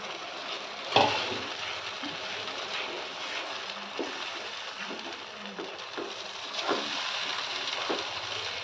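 Beetroot and finger millet halwa mixture stirred into melted jaggery in a pan, giving a soft continuous sizzle with scattered scraping and tapping of the spoon against the pan.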